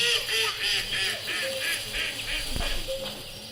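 Several loud, nasal quacks and honks from ducks in short bursts, with a background murmur of other birds.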